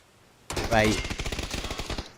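Rapid automatic gunfire erupts in the PUBG battle royale game, a sudden loud burst followed by a quick rattling string of shots, with a caster's voice underneath.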